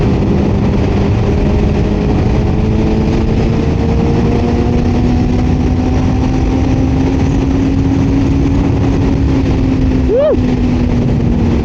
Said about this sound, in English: I wonder why the revs sound high, because I don't have a gear indicator.